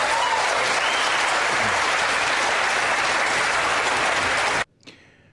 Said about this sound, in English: That applause was sickening.